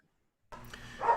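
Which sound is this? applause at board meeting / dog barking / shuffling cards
dog barking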